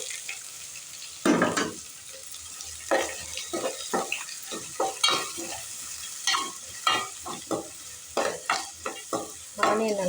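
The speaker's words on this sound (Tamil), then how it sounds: "ஆனியன் நல்லா பொன்னிறமாக வதக்கிக்கணும்." Sliced onions sauté in a pan with bay leaf, star anise, cloves and cinnamon for chickpea pulao, the sizzle broken by frequent scraping stirs of a spoon, irregular bursts close by; no voices.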